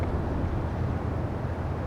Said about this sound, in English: It's a little bit windy, so hopefully that doesn't make too loud on my little microphone here.